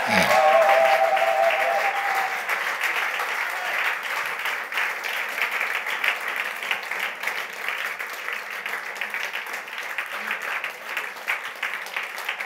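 A church congregation claps and cheers for the Lord at a Francophone worship service, a dense, loud wash of applause that fades slightly and then holds steady.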